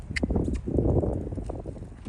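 A spotted saddle horse's hooves strike the ground in a quick rhythmic series of dull clip-clop thuds as it moves into a canter, heard close for about two seconds.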